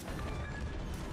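Heavy naval turret guns firing in World of Warships, a deep booming crash that fills the short stretch loudly with rumbling low-end weight and no talk.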